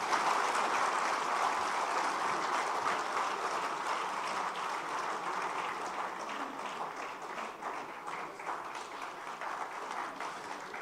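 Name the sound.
applause for Piyush Mishra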